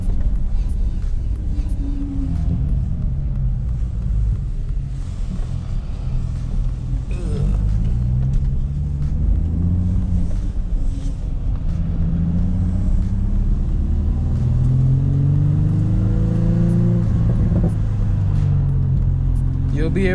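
Modified exhaust on an Infiniti G35 sedan while driving, a steady low engine rumble with rising and falling drone as the throttle is eased off, continuous and close, with a voice talking over it at times.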